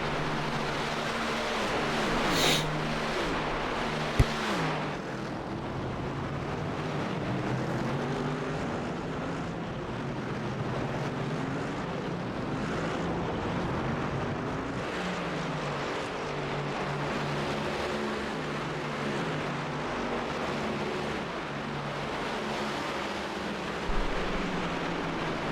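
Mercedes-AMG GT race car engine in a racing game at Monza, a sustained droning roar rising and falling with gear changes and pack racing throughout, with no talk.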